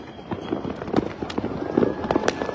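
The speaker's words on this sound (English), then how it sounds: "there's still some more Saturn missiles because they last a long time." Saturn missile fireworks at a New Year show, a rapid irregular run of sharp crackling pops and whistling bursts, moderately close and continuous over faint background voices.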